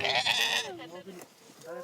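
Cashmere goats bleat in the Gobi desert, a few wavering calls close by, with a voice speaking over and between them.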